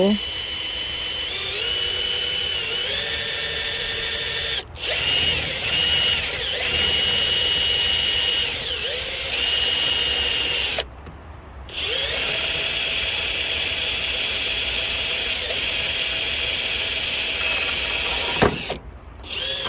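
A power drill whines loudly and steadily in long bursts, boring holes, stopping briefly twice, with changing pitch as it bites into the material.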